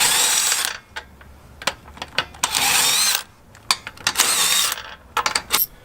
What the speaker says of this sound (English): now we're gonna go ahead and crack these lugs off and take the wheel off